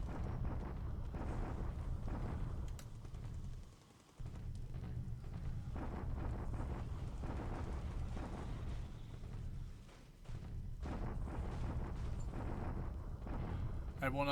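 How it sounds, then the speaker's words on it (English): Continuous low rumbling barrage of artillery in a World War II strategy game set in 1942, a steady roar of blasts with two brief dips, while a voice talks over it. "Everyone else is just bombarding."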